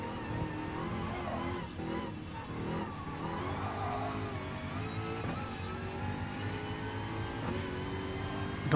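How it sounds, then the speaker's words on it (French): A Renault Mégane RS race car skids and revs hard during a Gran Turismo Sport race, its engine note rising and falling steadily over continuous tire noise at close range. "c'est une Mégane RS qu'on a derrière"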